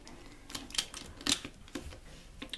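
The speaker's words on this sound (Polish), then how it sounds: "Jak można słyszeć to kliknięcie." A plastic Pyraminx puzzle makes a series of sharp, light clicks and rattles at an irregular pace, close up and fairly quiet.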